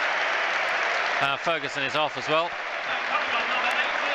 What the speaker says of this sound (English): He's getting a very rapturous round of applause.